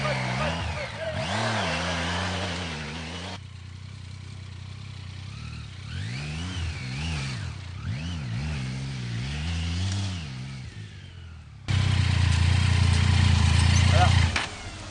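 A large trail motorcycle riding through sand, its mid-pitched engine repeatedly revving up and easing off in rising and falling surges, then growing louder and rougher near the end.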